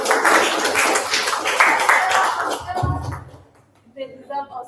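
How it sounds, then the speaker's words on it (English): A roomful of young people at an interfaith youth workshop clap loudly for several seconds in a dense burst of hands, then the applause drops away abruptly and voices chatter briefly afterward. "Round of applause"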